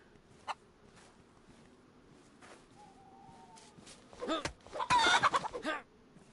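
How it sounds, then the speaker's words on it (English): Chicken clucking in the survival video game DayZ, a few faint scattered clucks early, then a louder, busier flurry of squawks and clucks near the end, fairly close against quiet ambience. "I also hear this chicken"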